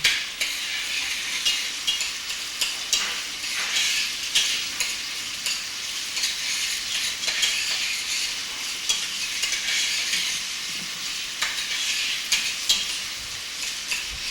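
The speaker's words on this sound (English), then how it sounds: "Some tomato paste was just added, and she's combining that now with the onions and stirring" Tomato paste stirred with onions in hot oil for Ghanaian beef jollof rice, a steady sizzle and frying hiss with scraping spoon strokes against the pot, close and continuous without talk.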